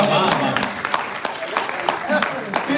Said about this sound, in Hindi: एक बार इनके लिए तालियां।